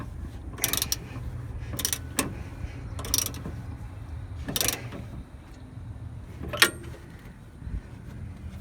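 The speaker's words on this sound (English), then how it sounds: "so I'm gonna get this stuff pretty tight with just the ratchet and the wrench" A ratchet clicks in several short, sharp bursts, tightening a front shock bolt on a Kenworth T660 truck, with quiet gaps between each burst and no talking.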